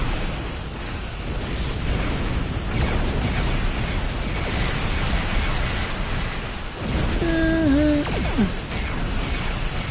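A torpedo explosion in the space combat game Star Trek Online, a loud sustained roaring blast with rumbling bursts, followed near the end by a short electronic tone sweep.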